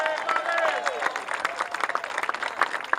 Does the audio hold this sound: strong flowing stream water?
no